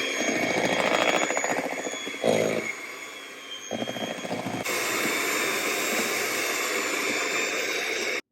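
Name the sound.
whisking corn flour and white wine vinegar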